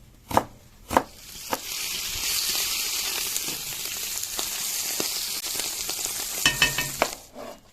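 Beef heart fat rendering in a kazan, steady bright sizzle throughout with a few sharp knocks and clatters of a utensil against the pot near the start and end.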